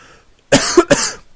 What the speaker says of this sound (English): I didn't want to cough over you there.